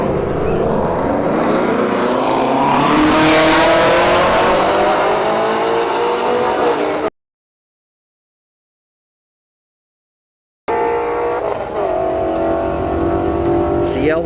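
A ZL1 Camaro and a Shelby GT350 launch side by side at a drag strip, engines roaring loud and close as they rev and accelerate hard, then a sudden cut to silence before another loud burst of engine noise returns.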